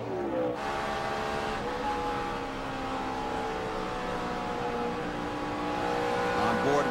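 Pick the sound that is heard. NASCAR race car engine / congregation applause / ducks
NASCAR race car engine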